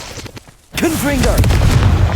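Confringo fire spell in Hogwarts Legacy bursts loudly after a brief quiet gap, a sharp boom followed by crackling, rumbling debris over ongoing game sound.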